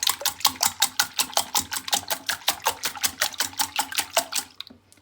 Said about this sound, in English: So now I'm going to whisk this up all together. The lime zest along with the egg.